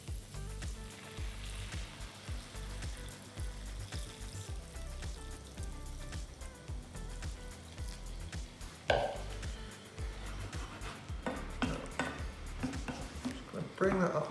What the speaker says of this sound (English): going to pour over our hot stock or hot water